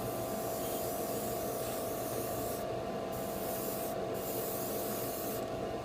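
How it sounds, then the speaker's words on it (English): An airbrush sprays a light mist coat of varnish onto a large Gundam RX-78-2 model kit, a steady close hiss with brief pauses as the spray stops and restarts. "So just a very gentle light mist coat."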